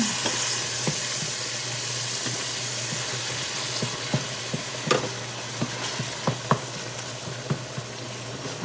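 Ground meat with carrots frying in a pan, a constant close sizzle broken by sharp scraping knocks of a spatula as it is stirred, growing more frequent toward the end, with no talking.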